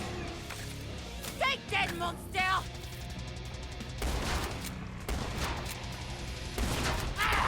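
Shotgun blasts ring out in the Killing Floor 2 shooter, a few loud separated bursts among combat noise while someone talks over the action.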